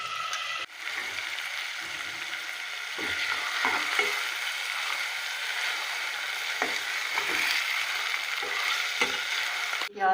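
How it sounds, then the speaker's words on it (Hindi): Finely chopped onions sizzle and crackle in hot oil as they brown, a steady loud frying hiss with occasional stirring scrapes, no talking. "ये बारीक काटी हुई प्याज है, तो ये इसमें मैं डाल दूँगी और इसको हम ब्राउन करेंगे।"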